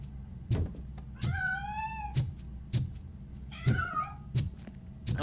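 A cat meows in the RoboCop Rogue City video game, two drawn-out wavering meows between sharp rhythmic clanking footsteps, fairly close and clear with no talk.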